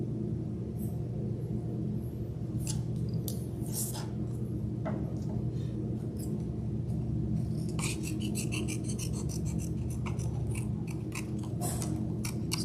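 Scissors snip ridges and prickly corners into a paper autumn leaf for a craft mobile, giving repeated crisp cuts in irregular bursts over a steady low room hum.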